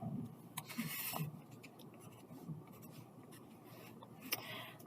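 Pen or pencil sketching a graph by hand on paper, with quick scratchy strokes and short bursts of drawing separated by pauses, close and fairly quiet.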